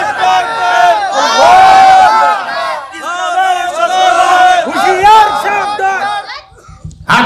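A large crowd at a religious gathering chants loudly and in unison in answer to a Naraye Takbir call, voices rising in repeated surging waves over several seconds before dying away.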